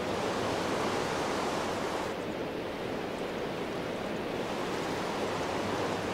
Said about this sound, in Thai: เสียง ทะเลครับ